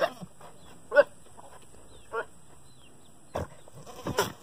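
An old billy goat at a fence gives several short, odd bleating grunts and snorts spaced irregularly, fairly close, against a quiet outdoor background.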